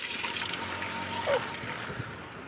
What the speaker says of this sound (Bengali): মোটর অন করে দেওয়া আছে এখন জলটা সরাসরি এটার ভিতরে যাচ্ছে